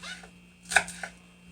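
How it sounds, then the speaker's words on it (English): A knife slices through the leafy top of a green onion on a board, two sharp crisp cuts close by and a quieter one earlier, over a steady electrical hum. "I'm just going to slice."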